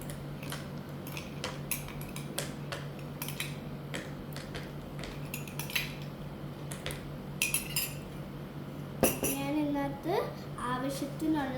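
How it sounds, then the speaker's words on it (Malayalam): Ice cubes dropped into juice in a glass give a run of sharp, bright clinks scattered over a steady low hum, with a voice briefly speaking near the end. "ഇനി നമുക്ക് ഇതിനകത്തേക്ക് ഐസ് ഇട്ട് കൊടുക്കാം."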